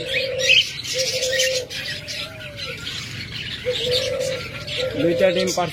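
A pair of lovebirds in a nest box, the hen sitting on two eggs, gives repeated tonal coos mixed with quick high chirps, close by and fairly steady throughout.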